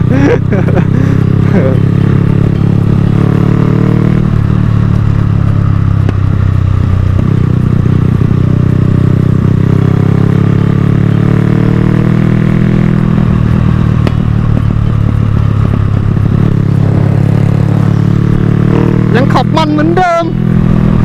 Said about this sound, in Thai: ได้ยินเสียงรถผมมันยิงไหม